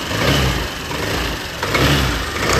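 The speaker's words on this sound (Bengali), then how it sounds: "এই তো গিয়ার বক্সে যে আওয়াজ বের হচ্ছে" A scooter's engine runs steadily with a grinding, whirring gearbox noise, loud and close, a continuous rough drone that swells slightly near the end.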